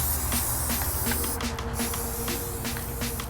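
Aerosol spray paint hisses steadily and close as a cinder block gets a coat of blue, a continuous spray held for the whole stretch with slight surges.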